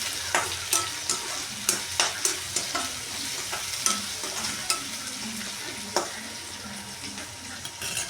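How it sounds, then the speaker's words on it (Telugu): Onions frying in oil in a pan for meal maker biryani, a quiet sizzle under regular scraping stirs from a spoon, repeated about every half second and close. "తర్వాత ఉల్లిపాయ, ఇప్పుడు చక్కగా వేయించుకోవాలి."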